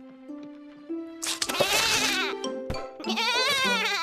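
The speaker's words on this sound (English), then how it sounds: "A goat?" An animated goat in the Zack and Quack cartoon knight adventure lets out wavering, nasal bleats over light background music, loud and close, with a short pause before a second bleating burst.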